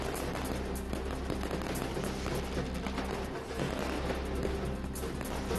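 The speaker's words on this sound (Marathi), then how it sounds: "बुलढाण्यात शिवजयंतीनिमित्त फटाक्यांची आतषबाजी" A fireworks display for Shiv Jayanti in Buldhana crackles with rapid, overlapping bangs and pops. The bursts are dense and continuous, heard at a distance over a low steady hum.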